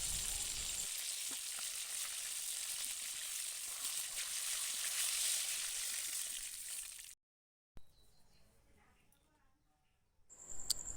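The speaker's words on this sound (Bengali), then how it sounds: "এইভাবে সব মাছগুলো আমি ভেজে নেব" Boal fish fry in hot oil with a dense, steady sizzle for about seven seconds. It cuts off abruptly into near silence, with faint clatters before a brief return at the end.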